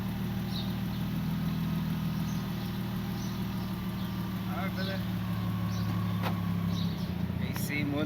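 A Toyota Supra idles smoothly with a steady low engine hum, close and constant throughout, while people talk faintly over it.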